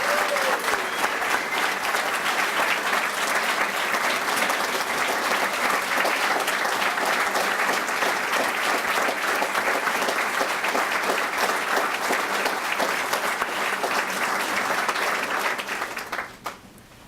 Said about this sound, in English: Ladies and gentlemen, please join me in a round of applause for all the retirees on a job well done.